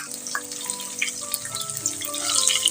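Shallots sizzle in hot oil over a medium flame, a steady close crackle and hiss with a faint watery bubbling quality that persists throughout.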